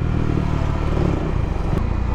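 A motorbike engine runs steadily while riding in Gajoldoba on an Independence Day ride, a loud continuous low rumble with road and wind noise throughout.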